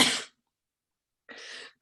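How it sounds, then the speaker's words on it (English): A person coughs twice, a sharp close burst followed by a short pause and then a second, slightly longer cough, in an otherwise quiet room. "I actually want to cough."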